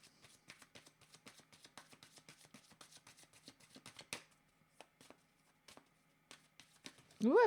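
Tarot cards are shuffled and drawn by hand, making a quick, close run of soft riffling clicks and taps that pauses and resumes. A voice cuts in abruptly at the very end.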